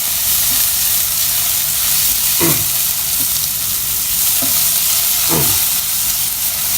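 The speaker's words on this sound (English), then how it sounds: "now this is crackling, and to that I'm going to add the 2 chilies and the onion. Stir this up." Chilies and onion dropped into hot oil in a pan for khichdi, a loud steady crackling sizzle broken by a few scraping strokes of stirring, close up and with no one talking.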